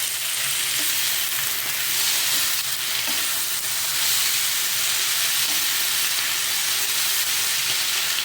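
Chicken keema fries in a pan with a dense, continuous sizzling hiss at steady loudness, close up and uninterrupted, with no voices.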